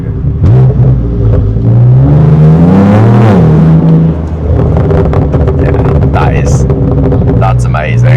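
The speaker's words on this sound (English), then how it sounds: "I've never had a car that burbles this much." A BMW M2 Competition with an aftermarket exhaust pulls hard from inside the cabin, its engine note climbing loudly through a rev rise, easing off, then burbling and crackling, with people talking under it.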